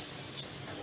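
Butter hits a hot pan and gives a short, close, bright sizzling hiss that fades slightly within a second.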